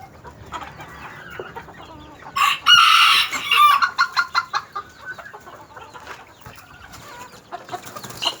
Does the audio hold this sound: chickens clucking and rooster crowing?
yes